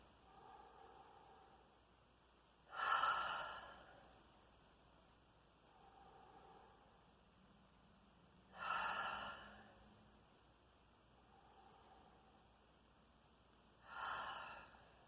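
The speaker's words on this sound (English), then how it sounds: "now I'm going to do my finger breathing" Slow breathing exercise: three strong, rushing breaths spaced about six seconds apart, each followed by a quieter, softer breath, close up in an otherwise quiet room.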